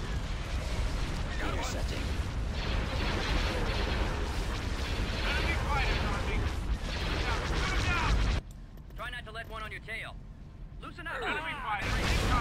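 Blaster fire and combat noise from the Star Wars game mod Thrawn's Revenge rumble loudly and continuously, with bursts and booms under someone talking; the din drops away briefly near the end before surging back.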